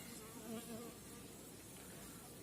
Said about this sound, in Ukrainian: бджоли поки однозначно